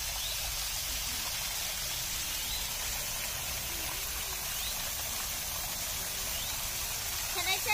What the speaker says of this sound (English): watching the water flow down to the other part of the fountain